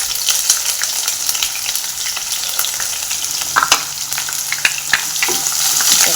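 Chopped onion hitting hot oil in a home poha tempering pan, a steady close sizzle and crackle with occasional stirring scrapes and pops, no voices.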